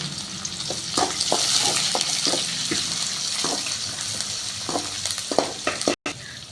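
Chopped onions sizzle and fry steadily in a pan for a Tamil peanut and banana-stem stir-fry, with scattered clicks of stirring throughout and no talk.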